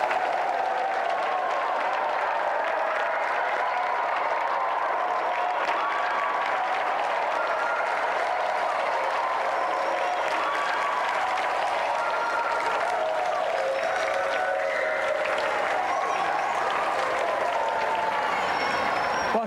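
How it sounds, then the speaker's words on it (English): A television game show studio audience applauds a challenger, with steady, dense clapping that carries on loudly without a break for around twenty seconds. "Give a round of applause for our challenger."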